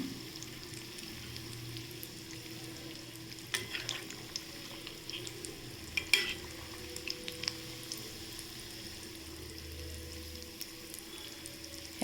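Sweet potato cutlets fry in a pan with a steady low sizzle, broken by a few brief clinks and scrapes as each one is turned over; no one speaks.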